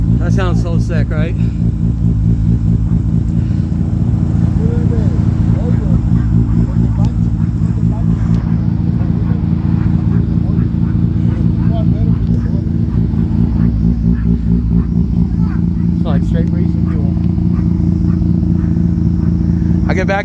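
A truck with a freshly rebuilt engine idles loudly and close, a deep steady rumbling throb with a rough, lopey pulse that runs without a break while a person talks over it.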